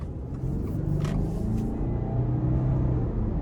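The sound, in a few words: 2022 Subaru Outback Wilderness 2.4 turbo engine boosting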